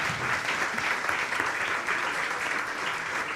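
Audience applause for the panelists at a Spanish-language journalism festival panel about turning reporting into TV series, a steady dense wash of clapping from a sizable crowd throughout.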